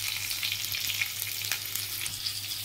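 Potatoes and pointed gourd frying in a pan with salt and turmeric, a steady close sizzle with faint stirring clicks, no talk, alongside a constant low hum.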